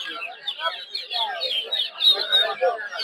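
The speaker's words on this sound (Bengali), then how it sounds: "হচ্ছে ব্রাহ্মা মুরগির বাচ্চা এগুলো।" Brahma chicken chicks chirp and peep continuously at a busy poultry market, close and fairly loud, with overlapping high calls from many birds.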